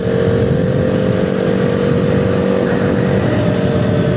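A motorcycle rides along the Delhi Katra Expressway, its engine a loud, continuous drone mixed with rushing wind, with no talking.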